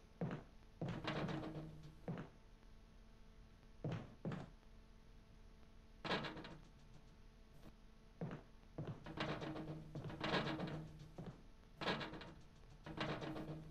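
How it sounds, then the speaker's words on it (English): Zombies banging on a door trying to get in, in the survival horror game Resident Evil: irregular dull thuds and knocks, some in quick pairs, repeating throughout at a quiet, muffled level. "There are zombies trying to get in."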